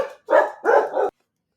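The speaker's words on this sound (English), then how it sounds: "Sorry, dogs." Dogs bark indoors, one short yip followed by two loud, close barks in quick succession, then silence.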